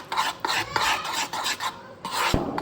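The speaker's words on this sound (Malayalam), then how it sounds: "ദെൻ അതിനുശേഷം നല്ല രീതിയിൽ അത് മിക്സ് ചെയ്ത് ആ ഒരു ലൂസ് കൺസിസ്റ്റൻസിയിൽ അതെടുക്കുക." Pancake batter with cocoa powder being stirred in a bowl, a steady rhythmic scraping and swishing of a spoon against the sides, close and fairly loud with a brief knock near the end.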